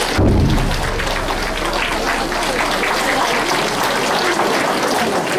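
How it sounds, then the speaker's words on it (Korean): An audience claps steadily and loudly at the opening of a citizens' alliance founding convention, a dense, continuous wash of hands with some murmuring voices underneath. "여러분 박수 부탁드립니다"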